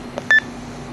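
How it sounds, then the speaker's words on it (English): A single short electronic acknowledgement beep from a D-STAR radio hotspot disconnecting, clear and close, follows a couple of faint clicks over a quiet hum. "There's my acknowledgement beep."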